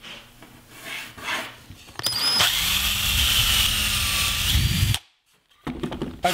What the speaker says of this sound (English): I've pre-drilled and countersunk a few holes